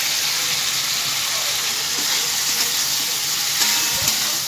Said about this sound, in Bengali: পটলগুলো ভালো করে নেড়ে চেড়ে নিয়ে